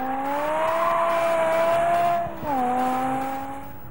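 BMW M5 E60 and M6 E63 with V10 engines lapping a technical race track, a loud sustained engine howl that holds pitch, then dips briefly under braking before pulling again, with faint tyre noise.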